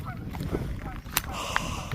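Geese honk at an outdoor park in Edmonton, Alberta, with a few scattered calls at moderate distance over background murmur and voices.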